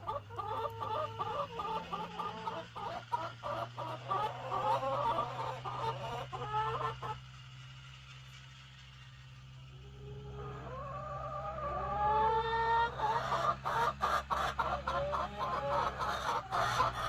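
Pasture-raised laying hens cluck and chatter steadily at close range, waiting to be let out for the day; the flock goes quiet briefly partway through, then starts up again in a rising chorus of clucks.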